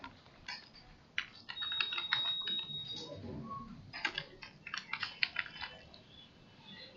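Typing on a computer keyboard while entering slide text for a digital presentation: quiet, irregular bursts of close key clicks with short pauses between runs, and no voice over them.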